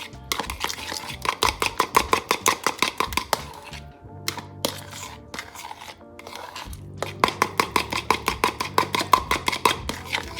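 Dessert ingredients being mixed in a bowl, rapid rhythmic clacking strokes in fast bursts with a short pause in the middle, close and loud.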